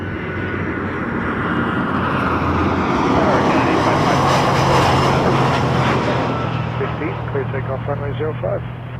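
A Jazz airliner takes off from runway 05 at Toronto Pearson, its engine roar swelling to a broad, loud peak midway and then slowly easing, with radio voices talking over it.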